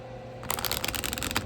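After a brief quiet moment, a tarot deck is riffled and shuffled face up in a quick, crisp flurry of rapid flicking sounds, close and clear.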